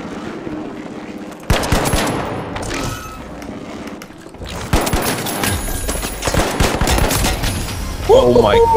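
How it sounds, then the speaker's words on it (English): An automated turret in the video game The Finals fires sustained rapid bursts, loud and close, with heavy booming gunfire that keeps going throughout. "My turret's lighting someone up."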